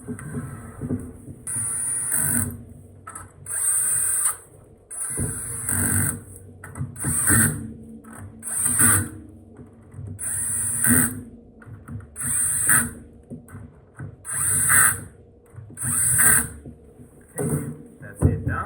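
A power tool whirs in short repeated bursts while the front bumper is fitted back onto a Floatwheel Adv2 electric board, the close buzzing pulses separated by brief pauses, with someone talking intermittently between them.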